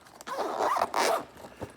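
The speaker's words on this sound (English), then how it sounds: "Let me zip that for you." A NOCO GBC103 carrying case for a GBX75 jump starter is zipped closed, giving two or three close, raspy zipper pulls with a brief pause between strokes and a short final tug.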